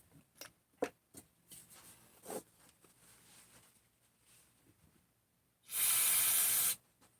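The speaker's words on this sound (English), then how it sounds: "Just make sure this is hit with degreaser, that's all." Degreaser sprays onto Husqvarna 288xp chainsaw parts in one close, loud hiss lasting about a second, after scattered small clicks and handling noises.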